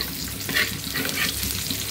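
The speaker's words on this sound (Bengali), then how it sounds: "আর একটু কড়া করে ভাজি" Chicken pieces sizzling and crackling in a hot pan in a home kitchen, a steady bright hiss with occasional stirring scrapes.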